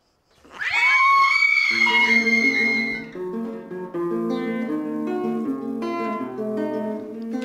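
A cat screeches, letting out a loud, drawn-out wailing yowl right at the start, followed by steady sustained tones for several seconds.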